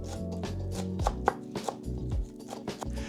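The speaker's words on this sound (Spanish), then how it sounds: "aprovechemos para picar un poco de perejil, que vamos a usar más adelante para el garnish" Parsley being chopped with a knife on a board, a quick rhythmic series of close, crisp thuds that keeps an even pace throughout.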